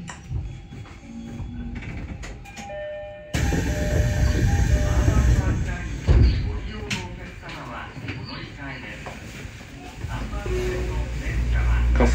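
Train noise rumbles and clatters from inside a Tobu Skytree Line carriage as it rolls into Kasukabe Station, with wheels and mechanisms rattling while an announcer speaks over it in Japanese.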